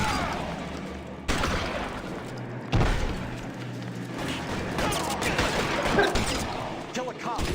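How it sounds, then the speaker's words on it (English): Gunfire in the video game L.A. Noire, with a few sharp shot impacts and crashes over a busy game soundscape while people talk throughout. "Who's shooting you, dude?"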